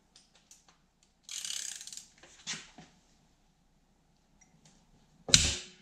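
Ratchet clicking bursts while removing motor mounts from a Yamaha YZ250 dirt bike in a quiet workshop, two short runs of close clicks then a sharp metallic clank near the end, no talk.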